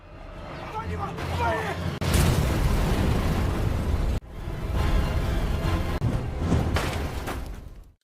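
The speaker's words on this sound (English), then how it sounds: "The heavy equipment easily tears through the barricades they worked so hard to build, triggering massive explosions." Loud, sustained rumbling blasts roll one into another with deep booming and crackling debris as heavy equipment tears through barricades, with an abrupt cut between bursts.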